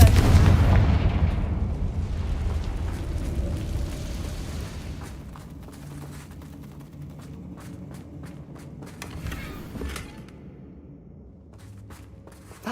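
Fiery Confringo spell blasts in the Hogwarts Legacy video game, a heavy booming burst at the start fading into a rumbling tail, followed by scattered softer impacts and clatter.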